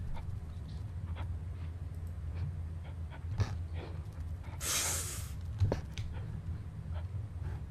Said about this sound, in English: It makes some really weird noises for a dog.